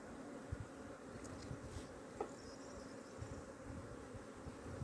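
Honey bees buzz around an open hive during an April hive inspection in Adana, making a soft, steady, low hum that stays faint and continuous throughout.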